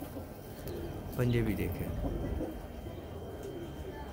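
A Kamangar pigeon on a rooftop gives a brief low coo near the start, heard under someone talking close by.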